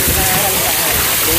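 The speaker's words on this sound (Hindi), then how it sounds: "भाई जी मैं ही वाटरफॉल के नीचे जा रही हूँ" Waterfall near Neelkanth Mahadev in Rishikesh: a loud, close, continuous roar of rushing, splashing water with no voices.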